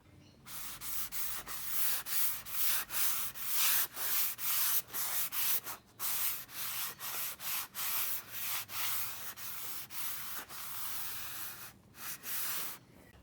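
A soft cloth wipes a bar clean during vinyl wrap repair on a Nissan 300ZX, making steady rhythmic rubbing strokes, close and fairly loud, repeating with brief pauses throughout and no talking.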